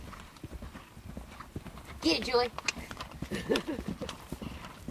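Rhythmic clip-clop of horse hooves during riding, continuous and fairly close, with people talking and calling out over the hoofbeats.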